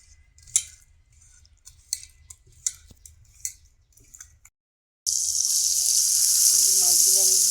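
Fish pieces go into hot oil and burst into a loud, steady, close sizzle that keeps going, after a stretch of light utensil clinks and taps in a quiet kitchen.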